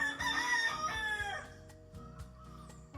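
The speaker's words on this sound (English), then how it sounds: "The rooster seems to agree." A rooster in rural Jamaica lets out one full, loud crow nearby, trailing off into a few short clucks and clicks in the yard.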